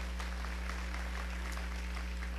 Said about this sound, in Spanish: Un aplauso al gran hombre Nelson Mandela, por favor.